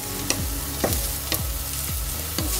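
Small onions sizzle in a pan on an Aga cooker as they are turned over, with a steady frying hiss and several sharp scraping stirs at a regular pace.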